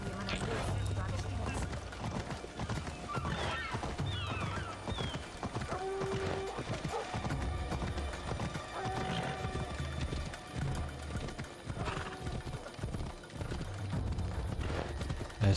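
Horse hooves clip-clopping at a ride in the video game Assassin's Creed Odyssey, a steady rhythmic patter running the whole time under game music and a voice.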